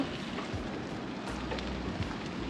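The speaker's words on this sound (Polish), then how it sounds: "No i ciągle pada" Steady rain falling on a cycling route in France near Lyon, a dense even hiss of drops on surfaces with no voices, moderately quiet and constant.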